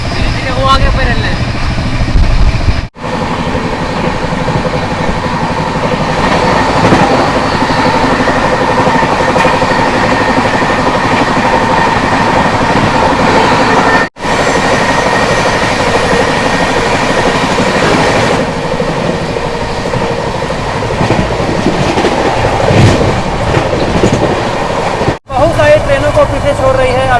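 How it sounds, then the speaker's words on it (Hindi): The 22466 Baba Baidyanath Dham Express roars along at speed, with a loud, continuous rumble of wheels and rail clatter from on board. Brief dips break the sound a few times, and voices talk faintly underneath. "हमारी भैया बाबा धाम एक्सप्रेस ना गजब की रफ्तार में चल रही है"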